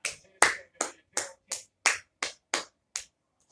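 A single person claps their hands nine times in a steady, unhurried rhythm. Each crisp, close clap stands alone with silence between, and no one speaks.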